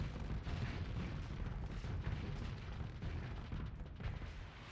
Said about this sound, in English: Activating that high-speed ammo feeder.